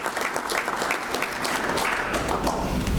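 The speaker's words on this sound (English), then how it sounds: "You can applaud yourself." Applause fills a banquet hall at a Hall of Fame convention dinner, a dense, steady clapping from a large crowd that holds at full strength throughout.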